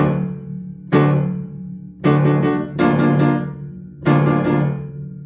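Piano plays a Percy Jackson theme with both hands, low left-hand octaves struck at the start of each right-hand group of repeated notes, rhythmic bursts separated by brief pauses, full and close.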